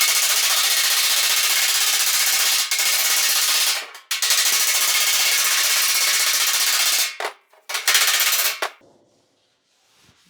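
Panel work on a 1940 Ford-inspired build, metal smoothed after welding: a dense, rapid continuous metallic rattle like a planishing or air hammer on sheet steel, running steadily with brief pauses, then stopping near the end.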